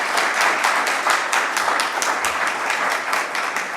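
Audience applause for the participants of an alumni lecture event: dense, steady clapping from many hands, loud and close, continuing without a break.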